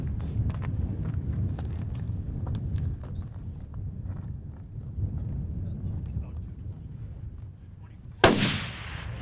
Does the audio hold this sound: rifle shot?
yes